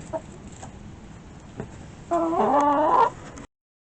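A broody hen in a nest box gives a short burst of clucking, close and clear after a quiet stretch with a few faint sounds.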